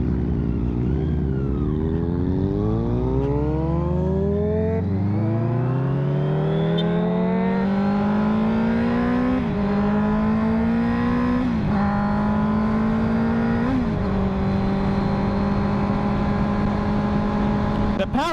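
Honda motorcycle engine droning loudly while riding, its pitch climbing through the gears and then holding steady at cruising speed, with wind rush and a brief gravel passage.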